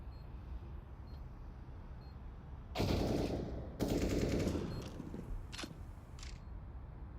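Gunfire rings out during a Counter-Strike match at IEM Rio 2023, with two loud bursts of shots followed by a couple of shorter sharp reports over a low background hum.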